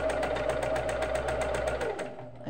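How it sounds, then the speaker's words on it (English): An old electric sewing machine runs close by with a rapid, even stitching clatter and a steady motor whine, then slows and stops near the end. "your sewing machine is old, so it makes a lot of noises too."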